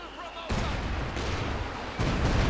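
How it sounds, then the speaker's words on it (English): Stuka rocket artillery barrage in the World War II strategy game Company of Heroes 2, a loud, dense roar of explosions and gunfire that swells in abrupt steps and keeps rumbling throughout. "Another barrage there from the Stukas of Fuss."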